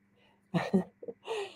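A single sharp sneeze, close and fairly loud, with a quick intake and a burst, then a short breathy trailing sound.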